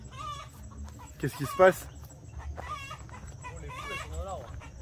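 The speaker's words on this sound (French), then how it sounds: "il y a des poules qui s'excitent derrière" Excited hens clucking and squawking on a farm during a humanitarian trip, fairly close, with a louder flurry of cackling midway, as a person speaks briefly.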